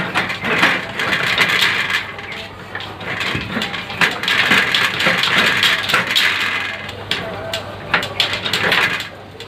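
A bicycle seat is gripped, twisted and pulled upward, giving close mechanical creaks, scrapes and small ratcheting clicks. A voice talks over the sounds throughout.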